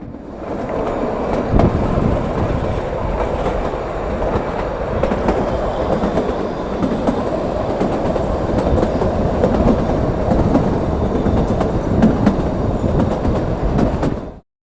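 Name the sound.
Shimla to Kalka toy train running on rails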